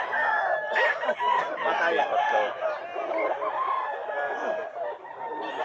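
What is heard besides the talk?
chickens at a Bulacan pet market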